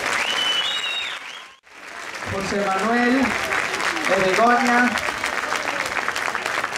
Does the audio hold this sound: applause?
yes